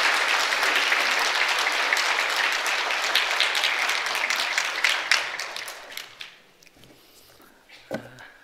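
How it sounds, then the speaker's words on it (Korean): A church congregation at a Sunday service applauds, steady dense clapping filling the room for about six seconds before thinning out into a few scattered claps and small noises. "우리 크게 박수로 축하합니다"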